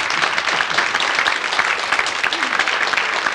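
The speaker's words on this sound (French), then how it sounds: "qu'on applaudit encore une fois." Dense, sustained audience applause at a televised French variety show, loud and even with many hands clapping at once and no pauses.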